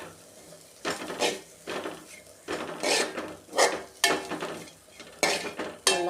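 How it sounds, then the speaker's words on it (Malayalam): Shallots, garlic, pepper and spices for a Kerala theeyal dry-roasted in a pan, heard as rhythmic scraping and stirring strokes of a spoon against metal, close and fairly loud, with faint sizzle between strokes and no voices. "ഇത് നന്നായിട്ട് നമുക്ക് വറുത്തെടുക്കാം"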